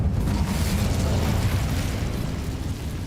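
Incendio fire spell in Hogwarts Legacy, a loud dense roaring blast of flame that holds steady for the whole stretch without pause or talk.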